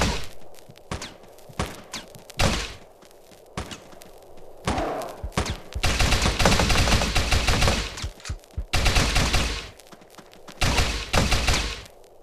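Heavy weapon fire in the top-down shooter Teleglitch, loud bursts separated by short gaps that build to long sustained stretches of rapid minigun fire, with thuds between volleys.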